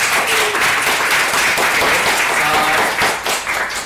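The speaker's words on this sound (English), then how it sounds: "Okay, round of applause." An audience at a Ruby programming group panel session claps steadily for about four seconds, a dense, close, continuous round of applause with no pause.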